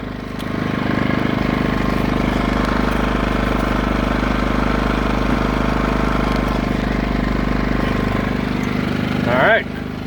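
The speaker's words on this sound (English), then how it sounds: "The inverter generator is running in eco mode." A TackLife inverter generator runs steady in eco mode, a loud continuous low engine drone with a constant hum, close by; near the end a short rising squeak or whine cuts in briefly.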